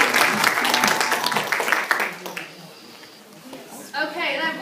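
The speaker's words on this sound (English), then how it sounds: "And y'all give them a big round of applause." An audience at a hostess event breaks into applause for a group of successful hostesses, a loud dense wash of clapping that fades within a couple of seconds before a voice resumes talking.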